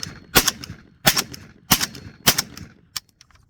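A JTS M12AK shotgun firing 7.5 shot rounds on a range. Five sharp, loud reports come roughly evenly spaced, each followed by a short echo, and the last one is weaker.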